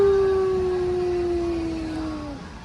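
A coyote howl plays from an animal display in a Bass Pro store: one long, loud, clear wail that slowly slides downward in pitch and fades out.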